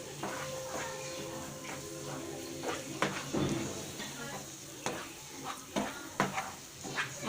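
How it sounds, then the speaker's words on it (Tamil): Gram flour halwa being stirred continuously in a pan, with a steady sizzle and scraping strokes, the spoon knocking the pan now and then, close up under a voice speaking over it. "கைவிடாமல் நம்ம இந்த மாதிரி கிளறிக்கிட்டே இருக்கணும்."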